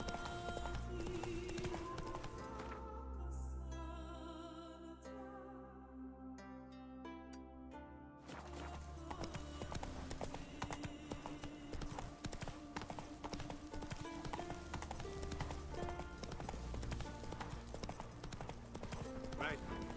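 Geralt's horse Roach galloping in The Witcher 3, a steady rapid clip-clop of hooves running throughout, loud and close, with game music and effects layered over it.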